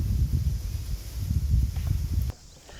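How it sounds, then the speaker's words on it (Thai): Strong wind buffets the microphone at the Khao Phraya Doen Thong reservoir during float fishing, a loud continuous low rumble with gusty surges that drops off sharply near the end. "ลมไม่หยุดเลยครับ"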